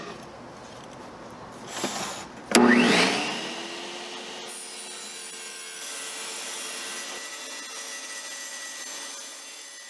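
An IQ Cyclone dry-cut tabletop tile saw slices through tile, with a sharp surge of cutting as the blade bites, then a steady whirring motor and dust-collection hum continuing to the end.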